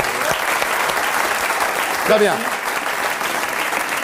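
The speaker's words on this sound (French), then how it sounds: "Je voudrais qu'on vous applaudisse." A TV studio audience applauds on a French talk show set, a continuous dense clapping that runs throughout while a voice briefly speaks over it.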